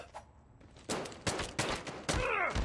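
Pistol shots ring out in Garena COD Mobile, four or five sharp cracks spaced roughly half a second apart, the last one trailing into a brief mechanical whine.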